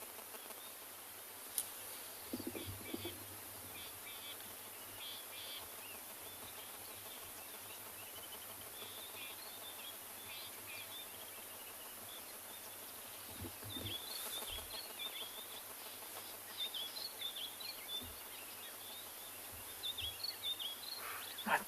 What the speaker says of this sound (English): many different bird species currently calling just to kind of announce to the world that they're still